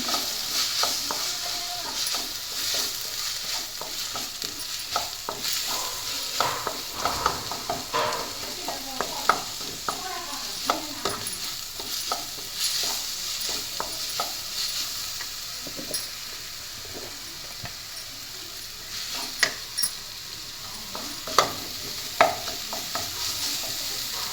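Ginger garlic paste sautéing in a pan for egg salna, a steady close sizzle with frequent scraping stirs throughout and a few sharper clicks of the spoon against the pan.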